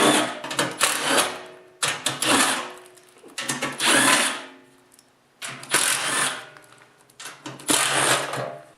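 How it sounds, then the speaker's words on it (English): A 1/4 inch impact wrench removes the belly pan bolts on a snowblower in four or five loud, close bursts of rattling hammering, each a second or so long with short pauses between. "Today I'll be using my 1/4 inch impact."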